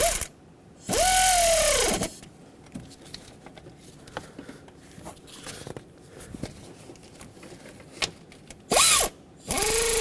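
Ratchet snugging the valve cover bolts on a 2007-2014 Chevrolet Silverado 2500HD 6.0L V8: light rapid clicking between two loud bursts of a whirring mechanical sound at the start and end, no talk.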